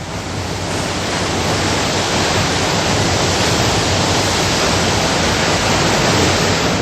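Floodwater on the Narmada River pours through the 18 opened gates of the Omkareshwar dam in a continuous, loud roar. The rushing noise is steady and broadband, with no voices.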